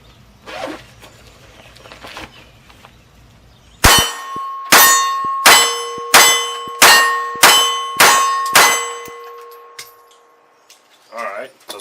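Seven .380 pistol rounds strike a small red steel stop-sign target in a steady, evenly spaced string, each hit a loud ringing clang with a lingering metallic tone; faint talk precedes the shots.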